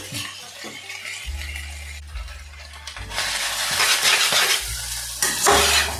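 Rice stirred and fried in a pan, with scraping and stirring over a soft sizzle, occasional light clinks of utensil against pan, and a low steady hum underneath.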